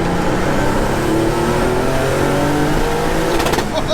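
An old-school Porsche 911 Turbo race car engine revs hard and loud, its note climbing steadily as it accelerates, heard up close from inside the car.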